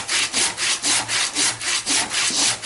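Hand saw cutting through the wood of a newly collected bonsai tree, with steady back-and-forth rasping strokes about every third of a second, close and loud, nine or so even strokes with no talking.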